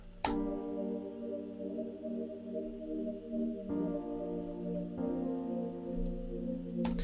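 Soft sustained piano chords with a gentle pulsing tremolo wobble from a Sound Toys Tremolator plugin, changing harmony a few times, quiet and alone with no voices.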